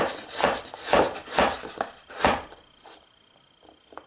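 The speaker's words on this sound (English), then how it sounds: "We're going to take our potato, we're just going to use our claw grip, cut up our fries." A 12-inch Winco Acero chef knife slices a potato into fries, giving a run of close, crisp blade chops against a board in a steady rhythm that thins to a few sparse, lighter cuts.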